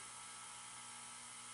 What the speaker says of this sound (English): then we'll just drill that out.